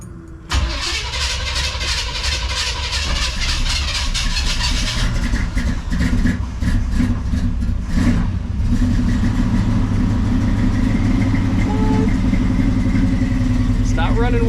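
A 1965 Chevy C10 engine that is running poorly cranks and catches, then runs loud and close with rough, uneven revving as the throttle is pressed, a steady idling rumble underneath.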